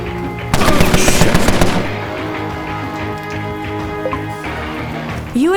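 Bursts of automatic gunfire from the crime strategy game Empire of Sin, a loud dense rattle for about a second before fading under steady background music.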